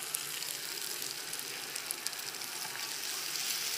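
Butter for pepperoni Alfredo sizzles in a hot pan, a steady bright hiss with small crackles throughout and no voices.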